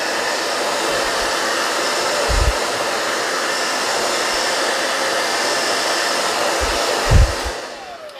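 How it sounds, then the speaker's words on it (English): A hair dryer blows steadily at close range, drying napkin decoupage work, a constant whooshing roar that holds for several seconds with a couple of brief low bumps. "you're gonna grab yourself the hair dryer real quick"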